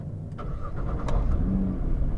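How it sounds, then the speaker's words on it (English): Nissan GTR 50th Anniversary Edition starting up: a short starter churn and a few clicks, then the engine catches and settles into a low, steady idle rumble, heard up close and fairly quiet. "So the way you start it up, foot on the brake, start stop button in red,"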